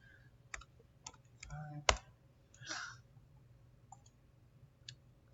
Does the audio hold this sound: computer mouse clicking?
yes